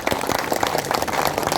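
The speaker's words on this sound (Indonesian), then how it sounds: "Tepuk tangan untuk kita semua." Dense, steady applause from a crowd at a campaign rally, many hands clapping at once, close and loud throughout.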